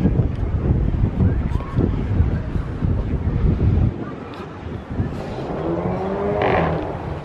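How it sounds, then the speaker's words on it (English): Wind gusting at a seaside beach by a pier in Margate, a steady loud roar buffeting the microphone for about four seconds, then easing to a softer whoosh with faint surf and distant sounds. "It's getting pretty windy now."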